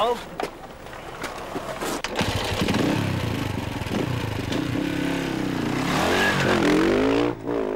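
A motorcycle engine drones and revs loudly during the 1997 Gilles Lalay Classic enduro rally in the Limousin, a sustained close roar with rising revs, while people talk over it.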